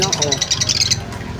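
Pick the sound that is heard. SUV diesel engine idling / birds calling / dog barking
birds calling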